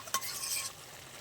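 A spoon stirs ash gourd ghonto cooking in a pan, giving a quick scrape and soft sizzle over about a second, close and fairly quiet.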